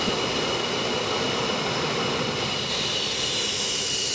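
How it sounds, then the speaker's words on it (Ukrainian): Two MiG-29 fighter jets take off with a loud, continuous roar and a high engine whine, steady and close throughout, with no voices. "По тривозі у небо піднялись два винищувачі міг 29"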